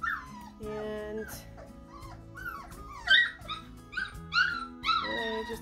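Puppies in a litter whimper and yip for their mother in a rising, overlapping chorus of high whines and squeaks, growing louder toward the end, with faint low sounds beneath.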